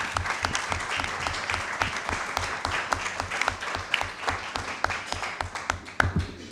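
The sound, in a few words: applause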